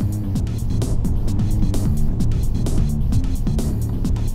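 Lexus GS200t driving in Sport Plus mode, a steady loud engine and road drone inside the cabin with a rhythmic thumping pulse over it, and no talking.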